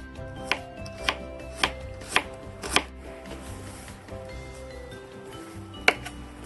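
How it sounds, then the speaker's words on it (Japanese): A kitchen knife cuts peeled garlic cloves in half on a board, about six sharp, distinct chops spaced irregularly over quiet background hum. "皮を抜いたニンニク、ちょっと大きいので半分に切って"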